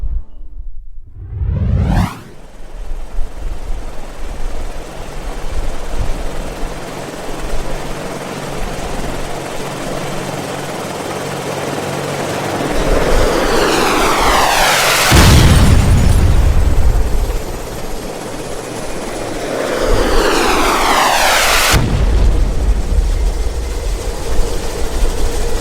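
Helicopter brought down in a video game cutscene: a loud rotor and engine roar sweeps past, with heavy booming impacts and explosive bursts as the aircraft crashes.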